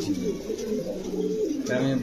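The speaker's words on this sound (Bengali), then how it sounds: "এটা হলো র জাবরা পাখি ভাই, সিলভার র জাবরা পাখি। শব্দটা কি দেখছেন দর্শক?" A silver Jabra pigeon coos in low, rolling murmurs close by, with the cooing continuing steadily for about two seconds and no clear talk.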